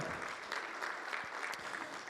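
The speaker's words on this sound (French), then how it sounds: "Sous vos applaudissements, s'il vous plaît" Conference audience applauding a guest speaker, a continuous soft patter of many hands, fairly faint and distant, with no talk over it.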